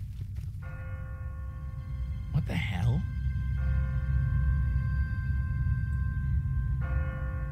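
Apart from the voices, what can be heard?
automatic church bell ringing, from video game The Walking Dead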